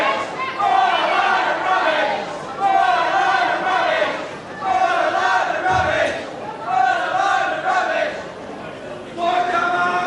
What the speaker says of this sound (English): So whatever the crowd shouts, it's Giant Haystacks.